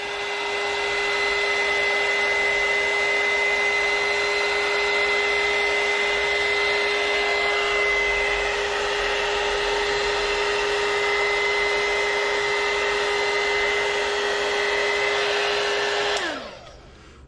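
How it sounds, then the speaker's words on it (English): A heat gun blows steadily over marble-effect epoxy resin for outlet covers, a loud continuous whine with an even airy roar that holds for about sixteen seconds before cutting off abruptly. "when I'm using the heat gun, how it just kind of mixes everything around a little bit more to give it more of that marble look"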